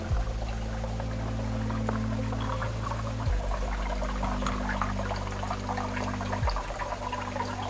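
Water pours steadily from a stone cow-head spout into a rock-cut cistern beside a temple at Sagargad fort near Alibaug, a continuous close splashing rush with a low droning hum underneath, no voices.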